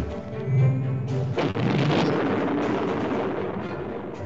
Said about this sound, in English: Let's take the slug gun ships. Explosion slug guns.